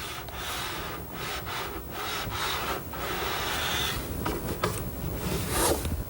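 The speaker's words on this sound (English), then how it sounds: "I'm just using this razor sharp trimmer to make it flush" A razor-sharp hand trimmer shaves heat-bonded edge banding tape flush with the edge of a kitchen island panel, making close, continuous scraping and rubbing strokes with brief pauses between passes.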